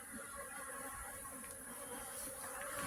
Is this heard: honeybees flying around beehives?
yes